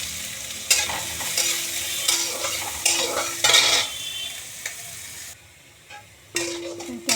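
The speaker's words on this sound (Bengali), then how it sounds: "লাল লাল হয়ে ভাজা ভাজা হয়ে গেছে।" Chopped garlic and onion frying in oil, steady close sizzling broken by repeated stirring scrapes of a utensil against the pan, with a brief quieter pause before the stirring picks up again.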